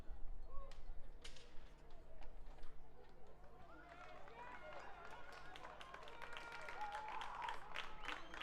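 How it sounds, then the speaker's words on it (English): Spectators at an outdoor track meet stadium applaud after a high jump attempt, scattered claps and crowd noise building over a distant announcer's voice, with a whistle-like tone near the end. "let's give him a nice round of applause"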